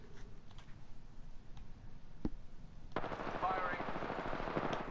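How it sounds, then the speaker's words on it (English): Gunfire in the battle royale game Apex Legends: sparse distant taps give way to a dense, continuous burst of automatic fire in the second half, with soft speech mixed in beneath. "Yeah, getting shot at."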